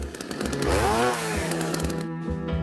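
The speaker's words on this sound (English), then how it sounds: "Think warthog. With a chainsaw." A chainsaw sound effect standing in for a husband's loud snoring, a short close roaring rev that swells and then cuts off abruptly, with no voices.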